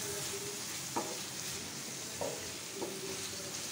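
Green chilies and ginger fry in oil over a high flame for egg bhurji, a soft continuous sizzle with a few faint clinks of a spoon against the pan.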